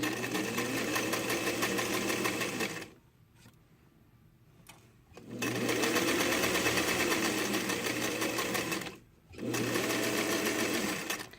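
A sewing machine runs a dart in fabric with loud, continuous motor hum and stitching close up, in two long runs separated by a brief pause, with no talking.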